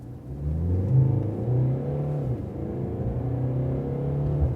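A Mercedes E-Class W213 in sport mode pulls away hard from a standstill, its engine droning and rising steadily in pitch as it accelerates, heard from inside the car with no talk.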